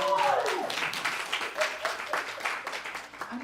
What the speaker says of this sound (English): You can help me in just recognizing Carol with the applause.